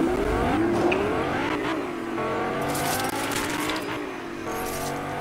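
Car driving off in the Fortnite video game, a steady engine drone rising and shifting in pitch as it accelerates away, continuous and moderately loud with no talk.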